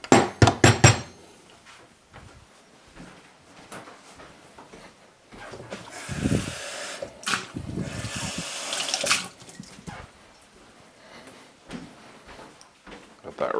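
Tap water runs over parts from a Turin coffee grinder as they are rinsed in a sink, with a sustained hiss and splashing in the middle of the stretch, bracketed by clatter and handling noises, close by.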